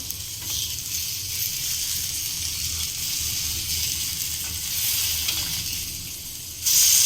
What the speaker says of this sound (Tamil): கொஞ்ச நேரம் மூடி வச்சுட்டு நம்ம ஃப்ரை பண்ணிக்கலாம்